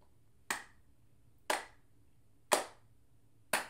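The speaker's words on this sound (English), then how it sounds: "So I'm gonna turn my metronome on to 60 and we're just gonna clap along" Single hand claps land on a steady 60 bpm metronome pulse, four sharp isolated claps one second apart in a quiet room, each crisp and close with a short decay.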